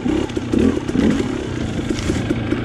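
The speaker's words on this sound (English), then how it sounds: "I like the more lively engine on the 250." A KTM 250 XC TPI fuel-injected two-stroke dirt bike engine runs close by with a steady, buzzy drone and small surges in throttle, and nobody speaks.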